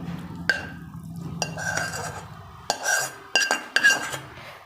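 Cooked spinach and paneer being mixed into wheat flour in a bowl for palak paneer paratha, with a spoon clinking and scraping against the bowl in a few distinct knocks amid soft stirring.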